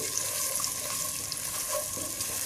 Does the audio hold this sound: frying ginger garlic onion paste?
yes